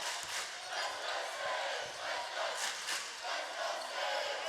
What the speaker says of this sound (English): So the crowd has kind of come back to life a little bit